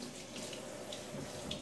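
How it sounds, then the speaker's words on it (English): Water poured onto venison on a grill to tenderize it, a light steady trickling splash running close throughout with no talk. "to tenderize this a little bit, we can add a little bit of water to it."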